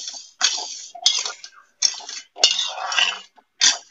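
Sugar and water stirred in a pot on the stove, a spoon scraping and clinking against the metal in short bursts with brief pauses between strokes, no voices.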